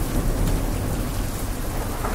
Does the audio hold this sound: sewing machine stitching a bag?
no